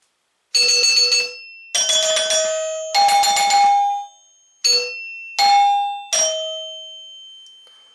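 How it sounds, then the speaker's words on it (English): Loud, ringing chime tones from a vintage Williams Little Chief pinball machine's chime board struck in a slow sequence, each note sustaining and decaying before the next, forming the three-note NBC chimes melody played twice. "the NBC chimes, like for the NBC TV and radio network years ago"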